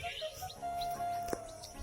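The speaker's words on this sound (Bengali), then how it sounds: "ওই পাখিগুলো ডাকছে" Birds call from outdoors near a rooftop on a windy day, thin high whistled notes repeating over soft wind rumble, fairly faint, with one brief knock.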